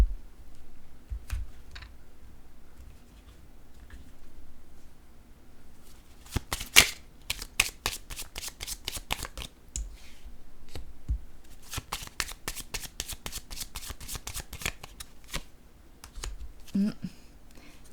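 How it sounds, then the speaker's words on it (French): A deck of cards is shuffled in rapid bursts of crisp riffling clicks, broken by pauses and single cards laid down on a table, close and fairly soft, with occasional speech. "Maintenant, je vais déposer une carte sur celle-ci."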